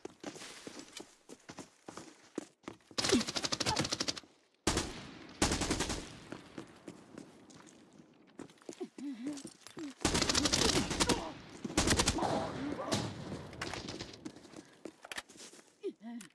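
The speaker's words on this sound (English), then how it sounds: "This guy's shooting, that's pretty bad." Bursts of gunfire from a Fortnite solo match, several dense volleys of shots with footstep-like patter in between, loud and close at times, with a voice talking over parts of the action.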